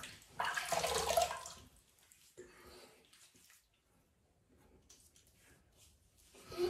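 A shaving brush rinsed under a running tap: a burst of splashing water early, then softer intermittent trickles and drips, fairly close and not loud.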